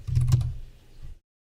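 A few quick keystrokes sound on a computer keyboard. The thuds are close and dull and bunch together, then stop into silence.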